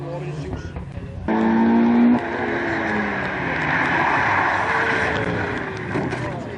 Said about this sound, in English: Chris Phillips in front of Mark Roberts here. It's Peugeot versus Citroën